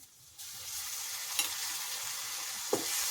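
Sliced onions with salt fry in a hot pan, giving a steady close sizzle with soft stirring scrapes and two brief sharper clinks of a utensil against the pan.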